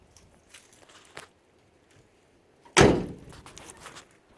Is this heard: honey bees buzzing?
no